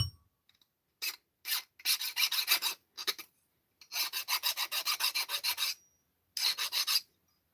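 A hand file rasps across a wrought iron flintlock trigger guard in short bursts of quick, close back-and-forth strokes, separated by brief pauses, with no talking.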